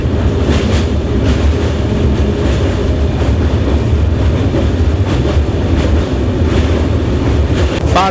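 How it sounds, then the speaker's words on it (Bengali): A train crossing the old Hooghly (Jubilee) bridge over the Ganges toward Bandel, a loud continuous rumble and rattle of wheels on the span heard from inside the carriage. "পার করছি হুগলি ব্রিজ"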